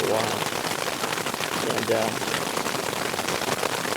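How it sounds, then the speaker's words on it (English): Steady, dense rain during a mountain thunderstorm at Big Pine Lakes, a loud continuous hiss and patter close by throughout, with a voice talking over it. "then it turned into just normal, pretty good rain for a while"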